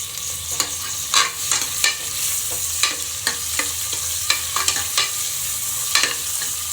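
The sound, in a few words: mutton fat frying in oil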